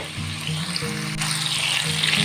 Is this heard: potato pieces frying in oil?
yes